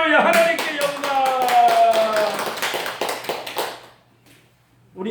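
A church congregation claps in an even, rapid rhythm for about four seconds alongside voices, then the claps stop and it goes quiet before speech resumes.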